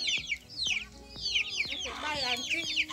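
Chickens clucking near a chicken house in a Kenyan village homestead, a string of close, quick clucks and squawks over faint background sounds.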